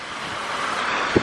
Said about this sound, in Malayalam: നല്ല തണുത്ത കാറ്റും അടിപൊളിയാണ്.